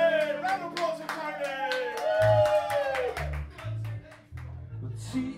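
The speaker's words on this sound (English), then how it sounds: "round of applause for" A pub audience claps along for the landlord during a band's drinking-song set, with sharp rhythmic hand claps mixed under loud shouting voices and thumping low band sounds.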